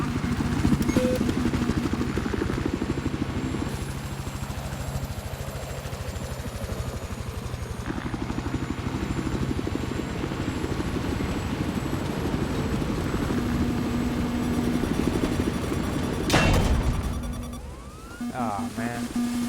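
A helicopter in the video game Battlefield 4 gives a continuous rotor and engine drone, joined by game effects and a brief sharp burst near the end, with voices talking over parts of it.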